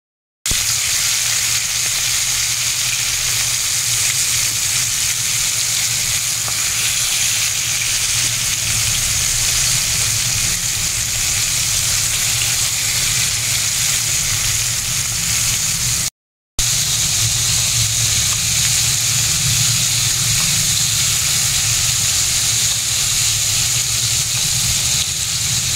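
Calamari sizzles steadily in a hot pan of oil, a loud, continuous crackling hiss broken only by a brief pause midway, with no voices over it.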